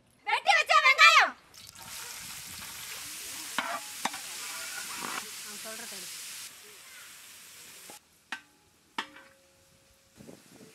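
Chopped onions frying in oil and being stirred for a tandoori chicken gravy, with an opening burst of loud sizzle and clatter, then a steady soft frying hiss broken by a few sharp stirring knocks.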